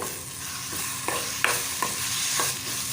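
Sauces being stirred into vegetables in a hot pan, a quiet, steady sizzle broken by several sharp scrapes and clinks of the utensil at irregular intervals, with no talking.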